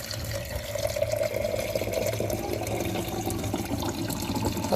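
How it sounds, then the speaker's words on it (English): Water runs from a tap into a mung bean sprouting jar with a mesh lid, a steady close trickle and splash filling the jar, no voices. "Pop some water in there."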